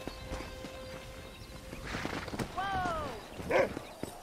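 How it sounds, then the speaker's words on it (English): Horse hooves clip-clop in the Western video game Red Dead Redemption, a quiet loose patter of hoofbeats joined by a whinny partway through and a brief louder burst near the end, with a voice talking faintly underneath. "Let's see if we can't wrangle some horses."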